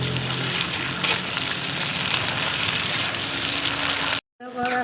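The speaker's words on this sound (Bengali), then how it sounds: "আমি একটু কিছুটা পেঁয়াজকে আর ভাজা করে নেবো" Onions fry in a pan for a cabbage and meat curry, giving a loud, dense sizzle that runs continuously before a brief cut, then resumes.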